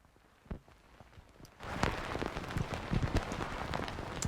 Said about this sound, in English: I added some vinyl crackle